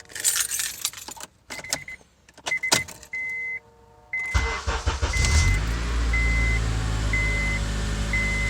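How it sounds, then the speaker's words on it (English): A car that has sat for a long time, completely cold, comes to life after keys jangle and a few clicks and beeps. The starter catches and the engine settles into a steady, fairly loud idle with a repeating chime over it. "It's been sitting for a while, so it's completely cold. So there's going to be a cold start."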